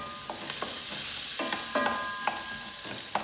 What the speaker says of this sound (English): nothing's better than the smell of onions cooking